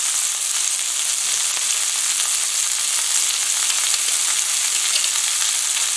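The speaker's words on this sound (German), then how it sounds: "Den Knoblauch kurz anrösten." Garlic toasting in a pan alongside cod fillets, giving a steady, dense sizzle that runs unbroken at an even level with no talking.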